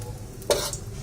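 Cumin seeds stirred in hot oil in a pan while making sabudana khichdi give a faint crackling sizzle with one brief scraping stir near the middle.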